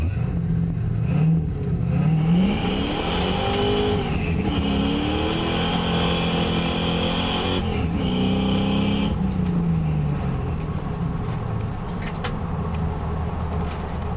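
A Ford Mustang doing a burnout, its engine revving hard and holding high with rising and falling pitch while the tyres spin, loud and close for most of the stretch before dropping back toward idle.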